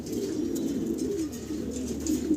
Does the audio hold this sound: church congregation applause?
no